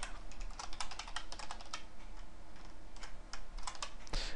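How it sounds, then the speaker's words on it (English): Rapid, close typing on a computer keyboard clatters in bursts of keystrokes with brief pauses, fairly quiet and with no voice over it. "while I'm typing this out here"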